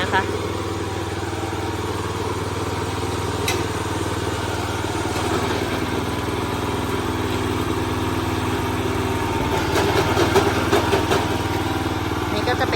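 A Kubota TG550 walking tractor, petrol engined and fitted with a plough and front blade, runs in first gear with a steady, loud, close chugging drone. Someone talks over it.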